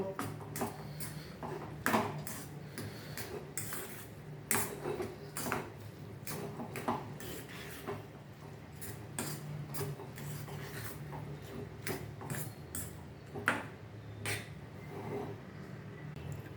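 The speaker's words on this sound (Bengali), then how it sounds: "এর মধ্যে একটা ডিম ফেটিয়ে দিয়ে দিলাম, দিয়ে এবার একটা নেড়ে একটা ব্যাটার তৈরি করে নেব" Beaten egg being stirred into a sabudana (sago) batter in a bowl, with repeated scraping, rasping strokes of a spoon and occasional sharper knocks against the side, close and fairly quiet with no one talking.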